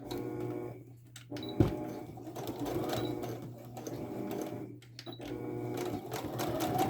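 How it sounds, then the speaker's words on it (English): A sewing machine stitches a fabric seam on a snap bag, its steady mechanical whir running nearly continuously with two brief pauses and a sharp knock near the start, close and moderately loud. "we're going to sew the other side, but only to this part"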